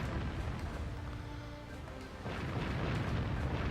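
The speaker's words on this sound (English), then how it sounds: "And I do love these cannons." Deep, rumbling booms of heavy naval cannon fire from the video game Warship Gunner 2 roll continuously, swelling louder in the second half with no voices.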